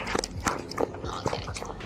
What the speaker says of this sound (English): just even the noise that they make when they break their kibbles, so cute